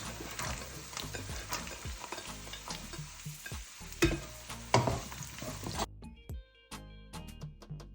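Carrots being added and stirred into a sizzling pan of Ugandan-style vegan eggplant stew, with steady frying, close scraping of a utensil and a few sharper clinks, then a quieter stretch of pops and clicks.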